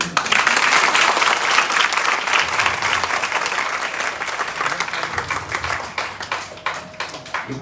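Loud, dense audience applause at a Bhagavat katha, a continuous crowd of clapping hands that gradually tapers off toward the end.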